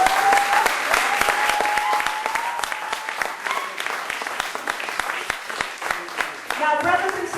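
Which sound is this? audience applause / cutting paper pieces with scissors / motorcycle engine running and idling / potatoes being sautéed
audience applause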